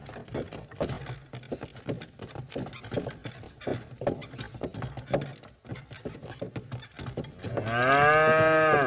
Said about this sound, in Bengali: লোকটি গরু দুটোকে যেই বলল চল হাট হাট, অমনি গরুগুলো চলতে শুরু করলো